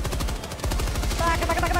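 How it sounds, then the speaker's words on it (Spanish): Rapid automatic gunfire from a machine gun in the video game Helldivers 2, a dense steady rattle of shots running throughout, with a brief gap partway and a voice faintly under it. "Hay una ametralladora aquí."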